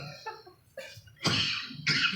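A man coughing after drinking the wrong thing, several harsh, close coughs in quick succession, with the loudest bursts coming at the end.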